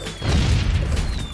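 A cherry bomb explodes in the Disney Infinity toy box game, a loud low boom with rumbling debris that sustains for over a second and fades slightly toward the end.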